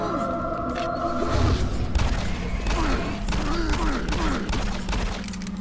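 Gunshots in the shooter Doom 3, a burst of heavy booming shots and thuds mixed with game effects and a rising whine, fairly loud and close.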